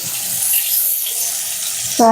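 Water runs from a kitchen tap in a steady, close splashing rush while water is collected for cooking rasam, ending with a brief voice.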